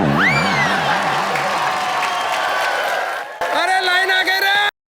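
A television game-show audience claps and whoops loudly, with music and a sung tone running through, before the sound cuts off abruptly near the end.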